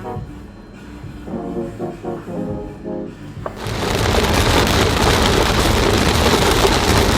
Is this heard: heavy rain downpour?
yes